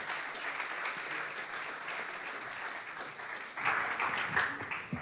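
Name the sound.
applause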